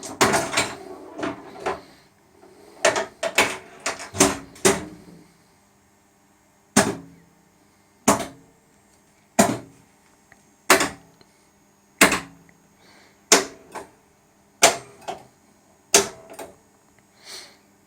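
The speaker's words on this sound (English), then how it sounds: "Let's go for a coil cycle test." Coils on a Sega/Stern pinball power driver board fire one after another during a cycle test, a series of sharp, loud clacks: a quick cluster early on, then single snaps spaced about every one to two seconds, close and alone.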